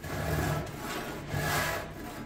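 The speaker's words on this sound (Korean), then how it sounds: "이 손목을 이용해서 이렇게 톱을 들어서 이 톱이 나무를 누르는 힘을 최소화를 시킨 겁니다" A hand saw draws through wood in slow, even strokes with the wrist lifting the blade so it barely presses, giving a soft rasping back-and-forth rhythm, close and steady with no talk.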